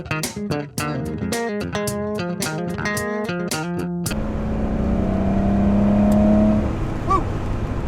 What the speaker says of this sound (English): a horizontally opposed flat 6 air-cooled 911 engine with 6 carburetors